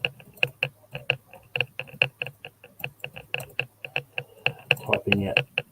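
Rapid typing on a computer keyboard, close and crisp, with irregular key clicks and taps in quick bursts, a faint voice murmuring underneath near the end.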